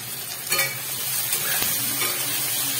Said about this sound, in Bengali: এবার একটু ভালো করে ভেজে নিতে হবে।